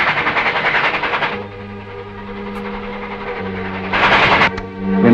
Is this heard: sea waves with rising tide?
no